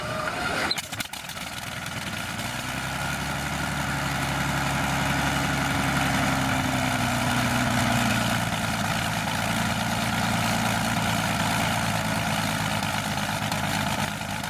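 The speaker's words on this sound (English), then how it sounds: "A bit of artistic license used there for the engine sound effects" A steady aircraft engine sound effect for a Spitfire Mk.IXc drones throughout, low and continuous, rising slightly after a brief click at the start.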